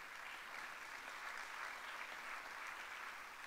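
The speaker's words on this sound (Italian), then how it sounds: "ancora un applauso per lui" An audience at an event in Ascoli Piceno applauds, a dense steady wash of clapping hands that continues evenly throughout.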